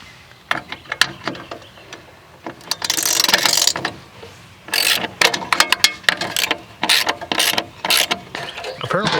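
Bracket screws being worked loose on a weather head of an old Victorian house, close metallic ratcheting clicks in quick bursts with scraping and rattling, loud and alone.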